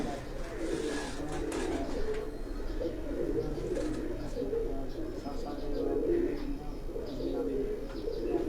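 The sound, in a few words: pigeons cooing on a rooftop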